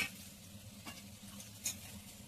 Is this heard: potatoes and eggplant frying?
yes